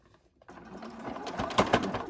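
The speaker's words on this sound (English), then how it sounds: "As you sew, make sure that those edges, that your needle is catching the top and bottom layer" A sewing machine starts up and stitches the edge of a zip pouch through top and bottom layers, a quick steady mechanical whir close by after a brief silent start, no talking.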